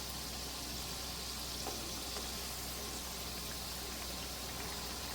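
Gujiya, sweet filled dumplings, frying in hot oil: a steady, dense sizzle and bubbling that fills the whole stretch, with no talk.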